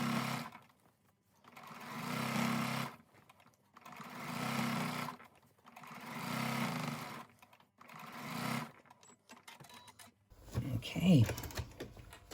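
A sewing machine stitches a round rice bag in four steady bursts of whirring, each a couple of seconds long with short pauses between, followed by brief handling clatter at the end.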